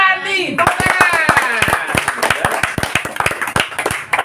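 A small audience claps at a Christmas gathering, with sharp, distinct, close hand claps falling in a loose, fairly steady rhythm right after a brief voice.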